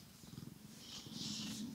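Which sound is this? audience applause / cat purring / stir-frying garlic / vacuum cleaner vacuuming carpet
cat purring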